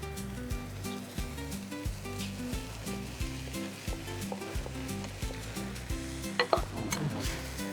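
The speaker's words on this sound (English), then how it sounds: "Adding the meat again." Meat for a traditional German Haschee meat sauce roasting in a pan, with a steady close sizzle and frequent scraping of a utensil stirring it, no voices.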